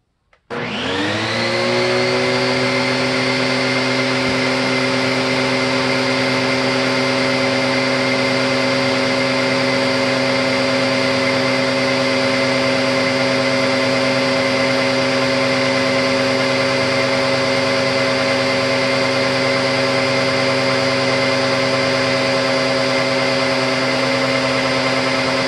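A Bissell Heavy Duty 50C9 vacuum cleaner switches on with its brush roll spinning and filters in, spooling up quickly into a loud, steady, high-pitched motor whine that holds unchanged and close throughout.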